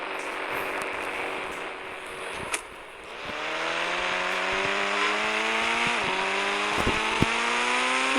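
A Bugatti Chiron engine in a racing video game, droning steadily with rising gear-shift tones and several revving climbs, loud and continuous with no talk.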